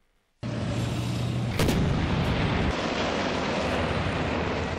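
Greek army tanks and helicopters fire during the Greek-US military exercise Kentavros 21, with a sudden loud blast of artillery followed by a sustained roaring rumble and a second sharp report, heavy and continuous, with no talk.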